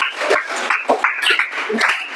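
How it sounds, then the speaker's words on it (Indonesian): Classroom applause for a student group that has just finished its presentation, a short burst of steady hand clapping from a room of students, loud and close. "Tepuk tangan untuk kelompok 2 sudah berani presentasi lebih dulu."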